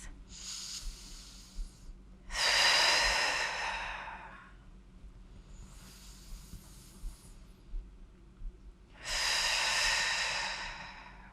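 Slow, steady breaths during a gentle mat-based stretching class, four long airy inhales and exhales spaced a few seconds apart, close and clear with no talking over them.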